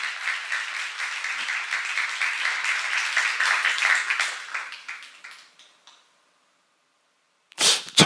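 A church congregation applauds during a seminar sermon with a burst of steady clapping that fades out over several seconds into silence, followed by a brief loud noise at the very end.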